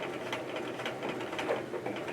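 A sewing machine hums steadily with a quick, even stitching rhythm as it sews a zipper into a jumper dress, quiet and close, with no talk.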